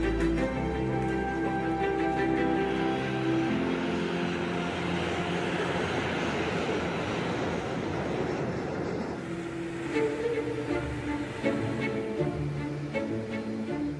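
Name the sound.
airplane departing Heathrow for Brussels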